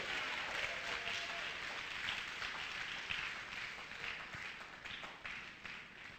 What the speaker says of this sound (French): Applaudissez fort Jéhovah.